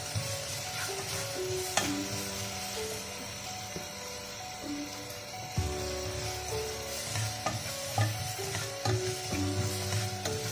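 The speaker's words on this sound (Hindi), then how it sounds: "अब मैं इसको थोड़ा सा फ्राई करूँगी दो से तीन मिनट तक" Finely chopped green chillies frying in a pan for dal makhani, a soft continuous sizzle with bursts of stirring and scraping and a few metallic clinks from the utensil, heard alone.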